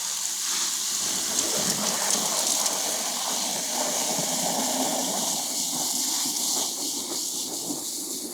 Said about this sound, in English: I'm going to foam that up by just holding my thumb in front of the hose and spraying it in there